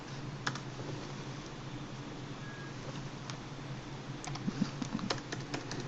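Soft, scattered clicks of a computer keyboard as a command is typed, quiet and close against a faint steady hum, with a quick cluster of keystrokes near the end.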